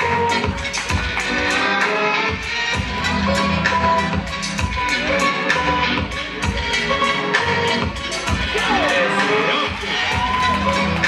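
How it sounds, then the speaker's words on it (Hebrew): A crowd of schoolchildren cheers and whoops continuously at a youth tricking championship, loud and sustained, with music and shouts mixed through the noise. "תנו להם קצת כפיים על זה, חבר'ה"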